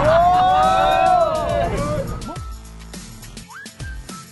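A group of anglers cheers and a loud rising whistle rings out as a fish is caught, then the excited voices and shouts trail off into scattered chatter.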